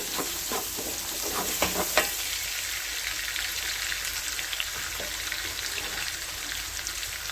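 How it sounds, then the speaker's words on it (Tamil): Finely chopped onions frying in a pan for a parsley chilli prawn fry, a steady close sizzle with a few sharp spoon taps and scrapes early on, then continuous hissing frying alone. "நல்லா இந்த வெங்காயத்தை நல்லா ஃப்ரை பண்ணுங்கள்."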